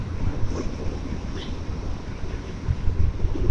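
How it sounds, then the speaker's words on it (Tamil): Strong headwind roars steadily across a microphone on a Yamaha MT-15 motorcycle ridden at about 60–65 km/h, a dense, loud rush with no talking. "காற்று தாங்க, சரியான காற்றுங்க, செம காற்று அடிக்குது அப்பா."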